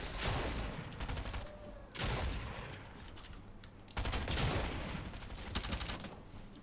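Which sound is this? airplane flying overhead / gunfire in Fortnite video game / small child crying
gunfire in Fortnite video game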